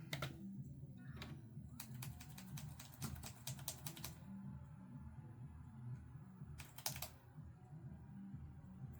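Repeated key presses on an external keyboard plugged into a Sony Vaio laptop, quick bursts of sharp clicks in two clusters over a low hum, no voices.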